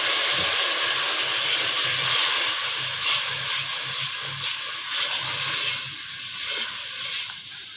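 Water poured into hot tomato masala in a pan for aloo baingan curry hisses and sizzles steadily for several seconds, a loud continuous close-up fry noise with no talk.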